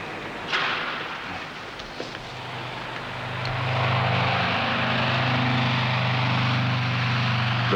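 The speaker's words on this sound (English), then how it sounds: "The flight from Christchurch to the Chathams is Margaret's first time in the air" A propeller airplane flies from Christchurch to the Chatham Islands, its engines droning steadily inside the cabin. The sound swells louder partway through, then holds at a heavy, even roar, with faint knocks and shuffles early on.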